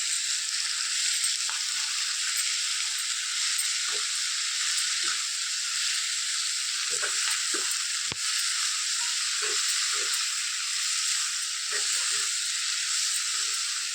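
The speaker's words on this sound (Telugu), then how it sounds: "ఇప్పుడు మనం కడిగి పెట్టుకున్న పాలకూరను పెట్టేద్దాం బాగా మిక్స్ చేసుకున్నాం" Washed spinach leaves stirred into a hot pan with turmeric, frying with a constant bright hiss and sizzle, broken by occasional soft knocks of stirring.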